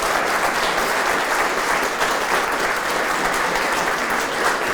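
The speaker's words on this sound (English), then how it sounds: "let's give Kaleb a round of applause" Sustained audience applause fills the room at the end of a museum evening talk on Dutch Americans during the Civil War, steady dense clapping for about five seconds with no voices over it.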